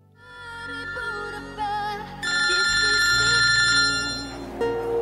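Electronic phone ringtone chimes in a bright repeating melody, loud and close, on stage during a church drama, with a low hum and faint voices beneath.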